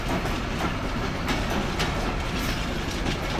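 Sirajganj Express train running on rails, a steady close rumble with regular clickety-clack wheel beats, heard continuously and without talk.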